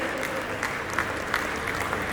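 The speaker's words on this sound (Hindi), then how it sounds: "हमारे सारे को स्पॉन्सर्स के एक बार जोरदार तालियों के साथ स्टेज पे स्वागत किया जाए" Audience at a business expo applauds sponsors as they come on stage, a continuous, fairly loud patter of many people clapping throughout.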